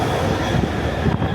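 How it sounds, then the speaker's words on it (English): A train pulls out of a station in Brussels, heard as a continuous loud rumble of rolling wheels and carriages close by, with a faint high squeal near the end. "Wait, that's the other train leaving."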